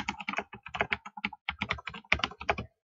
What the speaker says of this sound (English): You'll need to type a comment